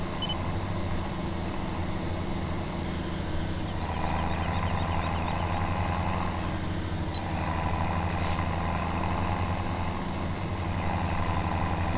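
A tractor engine in Farming Simulator 17 runs at a steady idle hum for the whole stretch, even and unbroken, with a faint click now and then and no speech.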